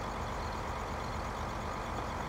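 Constant low, heavy engine drone of a tractor labouring up a hill in Farming Simulator 2015, a steady rumbling load without breaks or voices.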